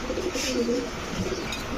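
Khulna Maheshwari pigeons, a male and female pair, coo softly in low repeated murmurs, close by and steady, with no talk over them.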